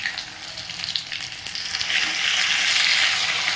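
Ginger garlic paste fries in a kadai, a close, loud crackling sizzle with light stirring scrapes that swells and grows denser toward the end, no talking.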